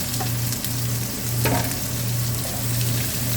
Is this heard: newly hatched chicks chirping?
no